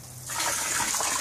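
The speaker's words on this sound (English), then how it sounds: "I just let the water go in" Water from a hose pours into a large container being filled, a sudden full gushing rush that starts after a brief quiet moment and then holds steady and loud, close by.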